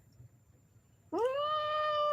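A cat gives a single long, loud meow that starts abruptly after a second of quiet room hiss and holds steady to the end.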